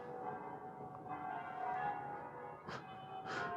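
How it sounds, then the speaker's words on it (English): Church bells ringing in Seville, heard faint and distant over a terrace, sustained tolling tones with a couple of brighter strikes toward the end. "You can hear the bells going off in the background."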